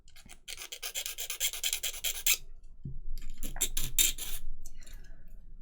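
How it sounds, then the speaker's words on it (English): Plastic being scraped off a model kit part for a Colonial Viper Mk II, close rasping scrapes in two bursts, a long steady one and then a quicker, choppier series after a short pause, with no voices. "Just scrape that off."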